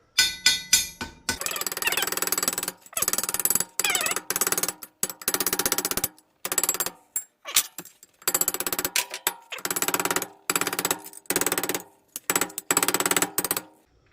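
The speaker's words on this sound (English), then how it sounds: "go put them on the anvil and hammer that edge out a little bit" A small hammer strikes a metal edge set on an anvil corner, a fast run of sharp metallic blows in bursts separated by short pauses, loud and near with no talking.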